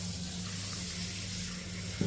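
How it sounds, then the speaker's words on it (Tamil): Water pours steadily from a tap into a bowl of half a kilo of ragi grains, a continuous close rushing splash with a low hum beneath, ending in a brief clatter. "பாத்திரத்தில் இதை நல்லா தண்ணி ஊற்றிக்கிடுவோம்."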